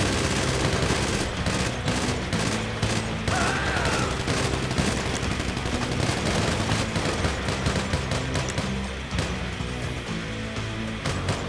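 A Gatling gun in GTA 5 fires continuously in long, rapid bursts, loud and relentless for the whole stretch, with no talking.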